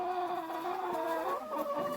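Ten hybrid laying hens from intensive breeding cluck and murmur together while shut in their coop, giving a close, continuous chorus of overlapping calls.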